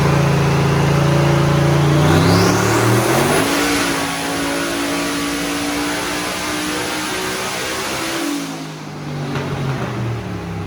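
A Gen V LT V8 in a Chevrolet Nova revs hard on a chassis dyno, its loud engine note climbing through rising pitch sweeps, holding at high RPM, then dropping off near the end.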